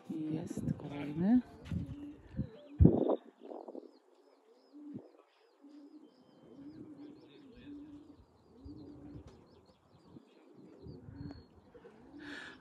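Soft, low pigeon coos repeat intermittently over several seconds during a racing pigeon competition flight, with a few chirps and people talking nearby.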